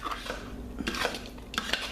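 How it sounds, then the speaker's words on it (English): A spoon stirs oats in a bowl while goat milk soap is being made, with quick clinks and scrapes against the bowl in a brief flurry. The sound is close and there is no talk. "So now I'm going to stir this oats up."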